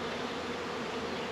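Honeybees buzzing during a package installation into a hive, a continuous dense drone from many bees close by, steady and unbroken.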